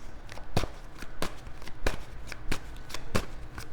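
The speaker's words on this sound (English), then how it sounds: "I'm going to take an extra card for this Knight of Wands" Tarot cards are shuffled up close in steady, rhythmic riffling strokes that repeat every half second or so, a continuous papery flutter with no speech over it.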